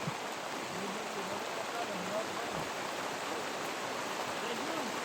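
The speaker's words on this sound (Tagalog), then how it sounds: "So unta mukalman na pud ni ang ulan karon ug ang tubig." Steady rain and rushing floodwater make a constant, dense hiss throughout, with a faint voice barely audible underneath.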